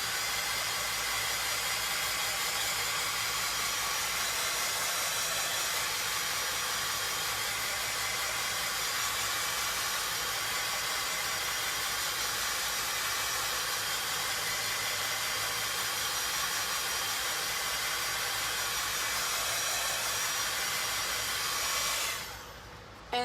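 A hair dryer blows steadily on a craft project, giving a loud, continuous airy whoosh at close range for over twenty seconds before cutting off at the end. No voices are heard.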